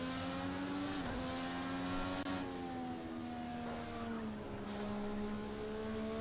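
Formula 1 race car engine from a racing video game, a loud sustained high-pitched whine holding steady with slight pitch dips and rises as it speeds down a long straight.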